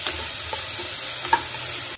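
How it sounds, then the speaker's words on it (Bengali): Tomatoes frying in a pan on the stove with a soft, steady sizzle and a few light stirring scrapes, no voices. "এবার একটু ফ্রাই ফ্রাই হবে, তো এবার এর মধ্যে আমি দিয়ে দেবো টমেটো গুলো"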